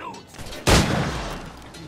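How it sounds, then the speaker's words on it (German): A single loud gunshot burst bursts in from Assassin's Creed IV Black Flag gameplay, followed by a lingering rumbling decay and faint game ambience. "Hat der einfach auf mich geschossen?"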